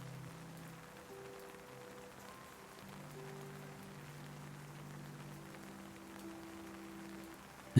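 Steady night rain falls in a soft, even wash with no voices, while faint sustained musical tones linger and fade beneath it.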